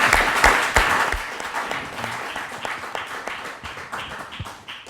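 A meeting audience at the 17th SuSanA meeting in Stockholm breaks into applause, loud dense clapping at first that gradually thins and fades out.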